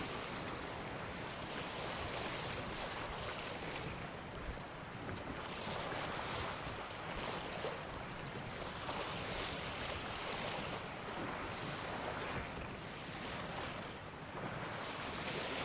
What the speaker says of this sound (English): it's just us boating along quietly through the water